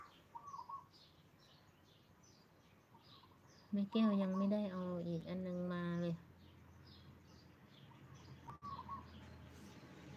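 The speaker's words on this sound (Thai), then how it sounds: "เสียงนกเสียงอะไรร้องเต็มนะ" Birds chirp and coo outdoors on a small farm, faint repeated calls scattered throughout, while a person speaks briefly in the middle.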